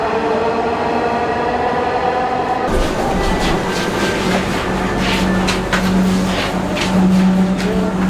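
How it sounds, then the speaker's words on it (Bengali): A Dhaka Metro Rail train at Uttara North station: loud rumbling rail noise that swells sharply a few seconds in, with airy hissing and faint tonal whines as the train moves close by, continuing steadily to the end without speech. "আমরা আছি এখন metro rail Uttara north train স্টেশনে।"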